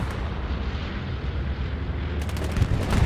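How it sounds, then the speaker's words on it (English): Bombing run in a war video game: continuous dense rumbling explosions and booming blasts, loud and sustained, with a sharper burst of impacts near the end. "we're going to see a bombing run coming in"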